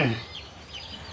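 Chickens cluck inside a large new coop built for about 200 birds, with one loud close cluck at the start followed by fainter fowl sounds under nearby talk.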